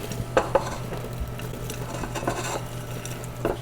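Shredded coconut, nuts and chopped fresh apple tossed together in a bowl for an apple cake batter, giving soft scraping and clinking sounds with a few sharper knocks against the bowl, close and unaccompanied by speech.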